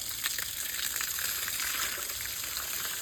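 A steady hiss of water spraying against a concrete column, continuous and close, with no voices.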